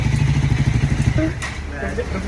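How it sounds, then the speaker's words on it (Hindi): A motorcycle engine, just brought to life after a battery jump, putters at idle with an even, rapid thump, close by, under people talking. "इतनी मेहनत के बाद फाइनली उज्जवल की बाइक स्टार्ट हो गई।"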